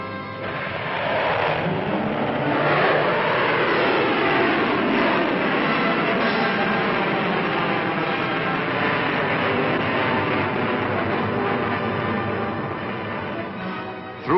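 Pershing missile launching at Fort Wingate, a sustained loud roaring rush of rocket exhaust that swells and holds for many seconds, dense and broadband, with no talking.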